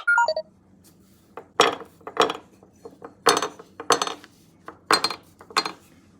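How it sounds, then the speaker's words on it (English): Vintage plastic spacewoman model figures tapped together in a clink test, a few quick bright clicks and ticks in uneven pairs, close and crisp against a quiet hum. "Alternate Clink Test for variance of response."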